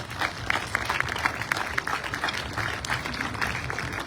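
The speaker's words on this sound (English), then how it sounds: "Can we give him a round of applause?" An audience applauds an origami teacher at a nuclear-war memorial gathering: a steady, moderately loud patter of clapping sustained throughout, with scattered sharper claps standing out.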